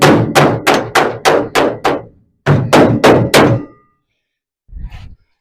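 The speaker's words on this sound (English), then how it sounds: "Let me just knock it a bit here." Two bursts of heavy hammer knocks on a metal panel for a 1937 Chevy hot rod, a run of six and then four, close and loud, followed by a softer thud after a pause.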